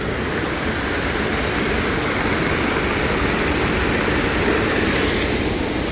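A steady, dense roar of rushing water fills the whole clip, loud and unbroken, like standing right beside a waterfall.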